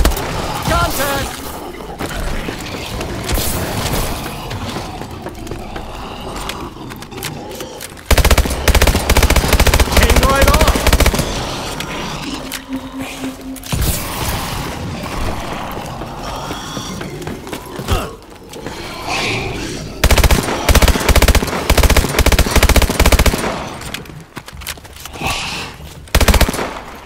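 Automatic and machine-gun fire from the Call of Duty Exo Zombies game mode, loud and near, coming in sustained rattling bursts that alternate with lighter game sounds and effects.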